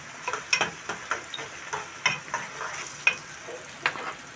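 Onions for koshari tomato sauce sizzling in hot oil in a pan, close and steady, broken by repeated scraping stirs of a spoon every half second or so.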